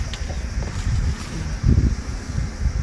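Wind buffets the microphone inside a campervan at a beach, a low, rumbling roar that swells and gusts throughout.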